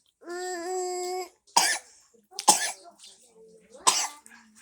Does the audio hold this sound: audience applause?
no